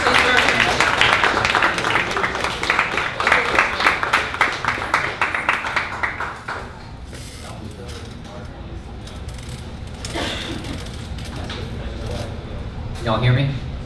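An audience at a 1 Million Cups Dallas startup pitch event claps to welcome a presenter from Surfboard. The applause is moderately loud at first, then thins and dies away by the midpoint, leaving a quieter room with scattered faint sounds.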